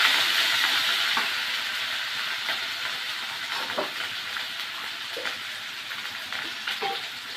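Chicken puli spices sautéing with salt and turmeric in a hot pan, a loud, close, continuous sizzle with occasional stirring scrapes and no talk.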